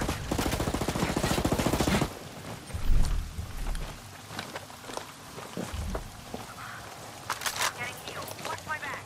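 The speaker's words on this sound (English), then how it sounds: "Hostiles are shooting." Gunfire in the tactical shooter game Ghost Recon Breakpoint: a dense burst of rapid shots for the first two seconds, then scattered sharp reports and thuds beneath intermittent voices and game sounds.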